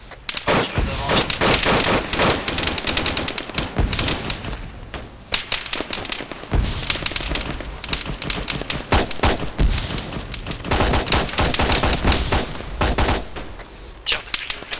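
Rapid, loud machine-gun bursts and scattered rifle shots crack without letup in a military shooter game set in Takistan, volleys overlapping into dense, sustained fusillades with only brief gaps.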